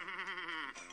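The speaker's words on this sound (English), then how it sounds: ""Meh," said Goat." A single drawn-out goat bleat sound effect, wavering and nasal, close and alone for about a second.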